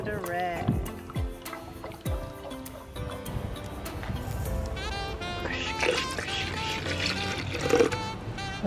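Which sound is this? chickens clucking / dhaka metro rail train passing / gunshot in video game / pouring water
pouring water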